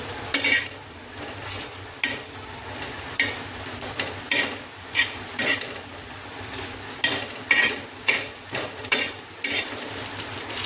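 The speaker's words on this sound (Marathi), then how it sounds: "आणि त्याला कंटिन्युअसली असं पलटून घेत राहू, कारण की तवा ऑलरेडी खूप गरम झालाय।" Spice masala stirred and roasted on a very hot tava, with repeated scraping and clinking of a spatula against the pan in an uneven rhythm over a low sizzle, close and loud.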